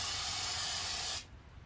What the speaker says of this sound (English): Spray that on top of the mud, a little bit thicker.